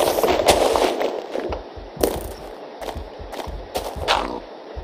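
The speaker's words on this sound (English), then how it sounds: "creeper exploded right on my face" A creeper exploding in Minecraft, heard as a dense burst of crackling noise followed by several sharp pops and thuds scattered over a few seconds, with no talking.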